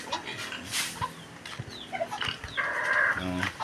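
Chickens cluck and squawk nearby in a busy farmyard, with scattered rustling and other animal noises mixed in; fairly faint overall.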